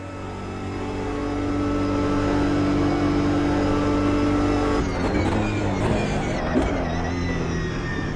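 A race car in the Automobilista 2 video game holds a steady, loud engine drone on a straight, then drops and shifts pitch sharply as it brakes into a corner, with tyre and transmission noise after.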